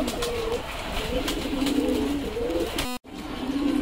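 Pigeons coo repeatedly in rainy weather, soft rolling calls over a steady hiss of background noise, with a brief dropout near the end.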